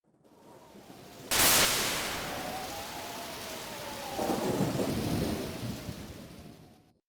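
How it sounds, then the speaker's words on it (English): A thunderstorm in the Pokemon Mystery Dungeon Explorers of Sky video game, where a sudden sharp thunderclap gives way to steady heavy rain and a second rolling rumble swells before fading out. "That lightning's intense. It looks like it's really stormy tonight."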